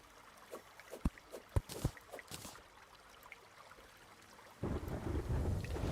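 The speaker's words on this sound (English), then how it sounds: "That thunderstorm isn't too loud" A thunderstorm in the Terraria video game: faint scattered clicks and taps, then a loud swell of rumbling thunder with rain hiss in the last second and a half.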